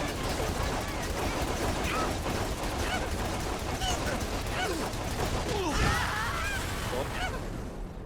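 Gunfire and explosions from the video game Saints Row The Third, a dense, continuous barrage of shots and crashes with a whooshing burst near the end, loud and busy throughout.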